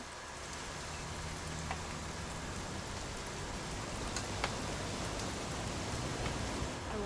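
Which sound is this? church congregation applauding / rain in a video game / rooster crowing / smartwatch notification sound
rain in a video game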